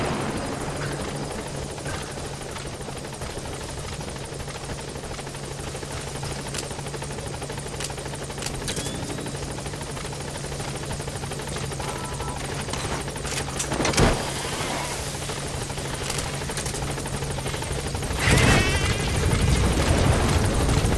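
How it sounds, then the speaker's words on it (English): A helicopter's steady rotor drone in Metal Gear Solid V: The Phantom Pain holds throughout, with a low hum and a few sharp whooshes and clanks near the end. "Support helicopter has arrived."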